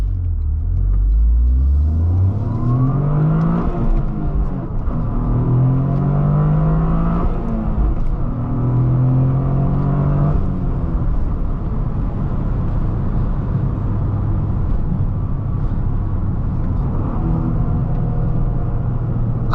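A 2023 Toyota GR Corolla's turbocharged three-cylinder engine revs up repeatedly through the gears from inside the cabin, each pull rising in pitch before a shift, then a loud steady drone.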